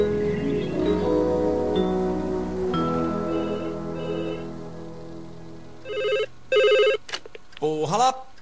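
A telephone rings in short repeated bursts near the end, loud and close, following a stretch of music with a voice in the background.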